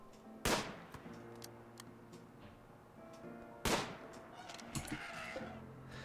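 Two sharp gunshots in a RimWorld fight ring out about three seconds apart, fairly loud with brief echoing tails, while quieter ticks and small clicks fill the gaps.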